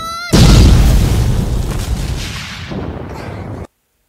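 A Halloween Explosion attack in the Roblox game Anime Dimensions bursts in as a loud, heavy boom with a long rumbling tail that fades over about three seconds, preceded by a brief rising tonal chime.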